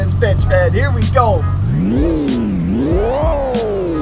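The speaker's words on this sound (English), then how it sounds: "Oh, I'm just revving. It won't let me go into gear until I pay." Car engine in the Pixel Car Racer video game revving repeatedly while held out of gear, the pitch climbing and falling in loud sweeps, with a person talking over the start.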